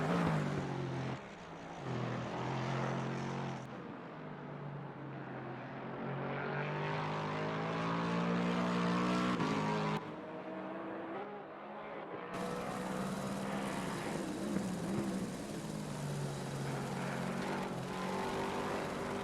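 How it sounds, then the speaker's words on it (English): Rotor and engine drone of a simulated helicopter camera over a GT race at Misano in Assetto Corsa Competizione, a continuous layered hum with shifting pitch and race car engines mixed in, cutting between views. "I do like the helicopter cam, and complete with helicopter sounds."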